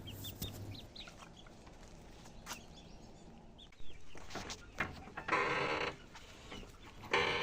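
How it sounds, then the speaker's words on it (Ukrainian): Bantam chickens cluck and call in a farmyard, with short scattered bursts and a few louder squawks near the end over steady outdoor background noise. "Оце бентамочки бігають."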